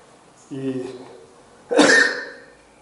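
During a church sermon, a short voiced sound is followed by one sharp, close cough from a speaker with a respiratory ailment, trailing off.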